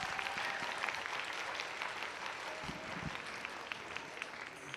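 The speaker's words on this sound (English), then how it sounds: "Let's give them a round of applause." An audience at an oratory competition applauds competitors returning to the stage, a steady, fairly distant wash of many hands clapping with no voices over it.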